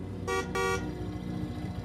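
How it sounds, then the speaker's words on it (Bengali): Two short, loud car horn honks in quick succession over a steady engine rumble. "গাড়ি এসে হর্ন বাজাল"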